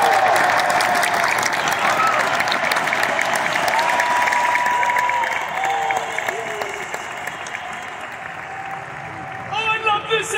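A large outdoor concert audience at the Hollywood Bowl applauds loudly and steadily at a show with two comedians, the clapping easing off slightly toward the end as a voice speaks over it.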